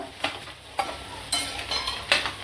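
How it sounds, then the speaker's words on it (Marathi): Shingada-potato mixture being sautéed with salt in a pan, with a soft background sizzle broken by a few sharp spatula scrapes and taps against the pan. "सवयपुरतं मीठ टाकू परतून घ्यायचं"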